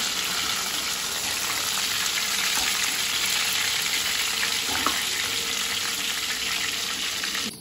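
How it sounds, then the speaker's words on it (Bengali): Fish frying in oil in a home kitchen, a loud, continuous close-up sizzle and crackle that holds steady without pause, with an occasional light clink of utensils. "তো এই যে মাছ ফ্রাই হয়ে গেছে ভালো করে, এবার তুলে দিতে হবে মাছগুলো।"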